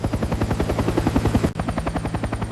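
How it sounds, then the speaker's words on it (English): A helicopter's rotor thumps in a fast, steady rhythm, loud and close, with an engine whine underneath and no voices, as it flies over the damaged Chernobyl reactor in 1986. "Helicopters would carry materials directly over the damaged reactor."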